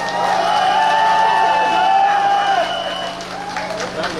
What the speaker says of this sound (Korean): 여러분 다시 한번 큰 박수 보내주시기 바랍니다